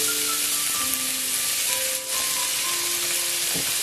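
Chopped onion sizzles steadily in a hot pan, a loud continuous crackle and hiss with a faint stir near the end, no voices.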